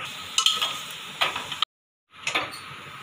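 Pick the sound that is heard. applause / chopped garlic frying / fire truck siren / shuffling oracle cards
chopped garlic frying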